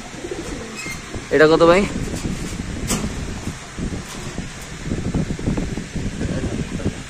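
Pigeons in cages at a pigeon market coo in low, repeated calls beneath a voice and nearby chatter, with a short clack partway through.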